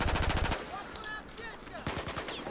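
Rapid automatic gunfire from the Battlefield 4 video game rattles in two loud, evenly spaced bursts, one opening the moment and one near the end, with a quieter stretch of game noise and faint voices between them.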